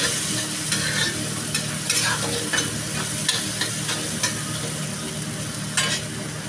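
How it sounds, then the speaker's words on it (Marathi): Food sautéing in a hot pan as it is stirred, with a constant close sizzle and frying hiss punctuated by regular scraping and clinking strokes of the spoon against the pan. "आणि छान परतून"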